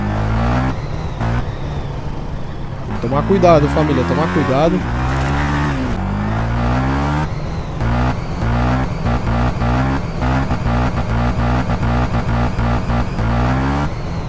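Honda Twister 300F motorcycle engine droning and revving while riding, a steady harmonic buzz rising in pitch with throttle, with someone talking over it throughout.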